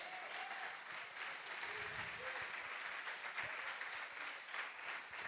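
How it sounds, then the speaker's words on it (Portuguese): Congregation applauding during a church service, a quiet, distant wash of continuous clapping with faint voices and tonal calls drifting underneath. "Você pode aplaudir o Senhor por isso?"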